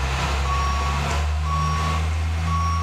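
A truck backs up to a loading bay with a hydraulic height-adjustable dock bumper, its reversing alarm sounding long, steady beeps about once a second over a low, constant engine rumble.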